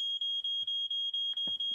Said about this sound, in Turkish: Söylediğin gibi duman alarmı da taktırdım Sam.